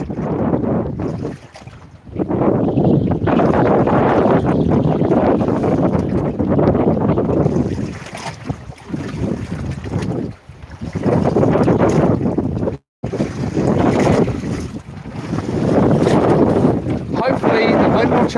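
Heavy gusts of wind buffet the microphone on a fishing boat drifting with the tide, loud rushing surges with brief lulls, someone talking at times beneath it.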